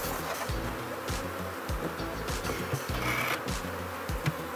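Honey bees fly in and out around a hive during a swarm inspection, a steady close buzzing drone with individual bees zipping past the microphone.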